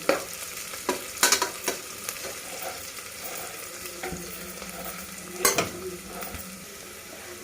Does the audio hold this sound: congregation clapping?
no